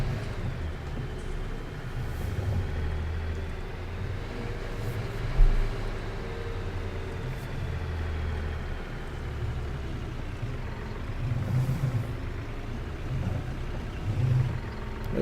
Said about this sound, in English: This tractor's going to struggle,